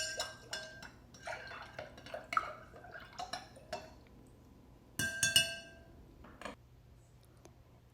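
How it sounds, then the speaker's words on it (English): A spoon clinks against a glass of lemon ginger tea in quiet, irregular bursts of bright taps and chimes, with soft liquid swishes between them and near-silence in the gaps. "And we're going to stir it up."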